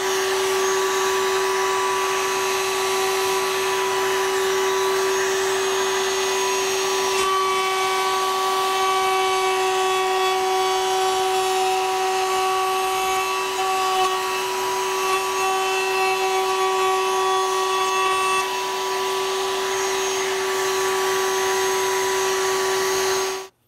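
A router table routes a wooden box piece, giving a steady, loud high-pitched motor whine with a strong tonal hum that runs unbroken for over twenty seconds, with no talking.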